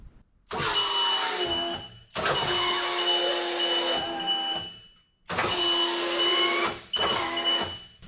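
The electric drive motor of a used auction scissor lift whirs in bursts as the machine moves and steers, four loud whining runs separated by short silences, each with a steady tonal hum.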